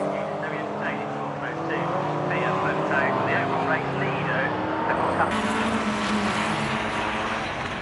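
At an Italian car show, race cars including an Alfa Romeo TCR Giulietta and a 4C roar past on track, a loud, sustained engine drone under continuous excited commentary.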